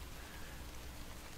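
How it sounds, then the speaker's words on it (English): Steady rain falls in the pixel-art adventure game Sword & Sworcery EP, a soft, even hiss with no breaks, fairly quiet and with no voices. "It is still raining."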